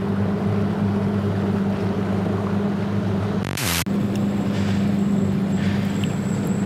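A bass fishing boat idles at dead slow on a river, its engine giving a steady low hum with a faint wash of water, broken by a short sharp dropout partway through.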